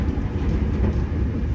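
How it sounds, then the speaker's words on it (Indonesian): An Argo Lawu passenger train rushes past on the adjacent track, heard from aboard a moving Argo Dwipangga New Generation train on the Jakarta–Solo line: a loud, steady, low rumbling roar with no talk. "Barusan kita bertegur sapa dengan kembaran kita, kereta Argo Lawu."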